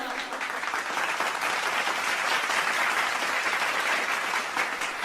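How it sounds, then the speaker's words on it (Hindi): A crowd claps together for a good answer at a lively Bhojpuri-language stage event, dense and loud continuous applause filling the whole stretch, close and even, with no voices on top. "सब लोग इसके लिए एक ताली बजाओ"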